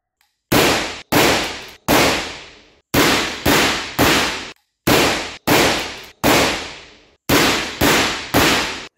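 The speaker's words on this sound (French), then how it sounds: "on met la vidéo de 2 tirs, l'un avec le Beretta et l'autre avec le Taurus, pour comparer bien le recul" Shotgun blasts from a Beretta semi-automatic and a Taurus pump-action, about eleven sharp, loud reports fired in quick clusters with short decaying tails and brief pauses between groups, no voices.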